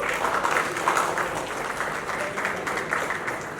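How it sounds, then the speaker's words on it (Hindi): A crowd at a Bhojpuri film mahurat shot claps steadily, a dense, even burst of applause that carries through the whole stretch with faint voices beneath. "जोरदार तालियां हो जाए गाइस।"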